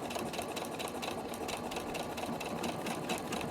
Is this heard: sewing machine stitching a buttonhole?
yes